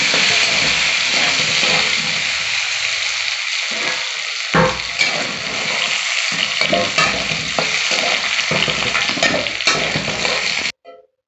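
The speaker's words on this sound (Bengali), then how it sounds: "এবার দেখি আলুটা কত দূর ভাজা হচ্ছে।" Potatoes fry in oil in a pan with a loud, continuous close sizzle, broken by scraping stirs, until the sound stops abruptly near the end.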